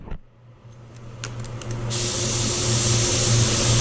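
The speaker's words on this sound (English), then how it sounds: "I'm gonna dry this, put a control coat," A SATA 3000 spray gun sprays a control coat of paint onto a Range Rover Velar in a paint shop. A few faint clicks come first, then a loud, steady, close hiss of atomized spray with no talking.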